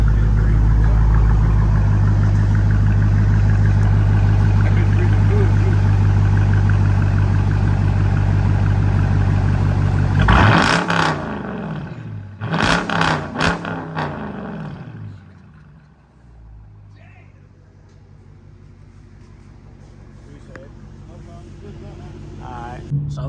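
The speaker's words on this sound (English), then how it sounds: "Rev it up a little bit." A straight-piped Dodge Challenger R/T Hemi idles with a heavy rumble, then roars through several sharp, loud revs that fall away to quiet. Voices are heard around it.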